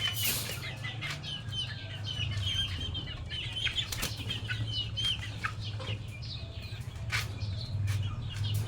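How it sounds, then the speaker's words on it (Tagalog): Young White Kelso gamefowl chicks in a backyard coop cage flap their wings in repeated sharp bursts, mixed with soft clucks and chirps, close and busy throughout without talking. "Nakakalipad sila kahit nasa kulungan lang sila."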